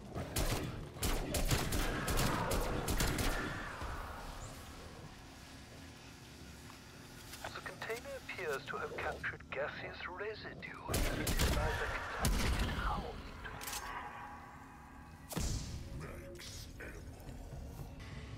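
Gunfire in Black Ops 6, bursts of sharp shots and rattling fire scattered across the stretch among mechanical clicks and thuds, fairly faint overall.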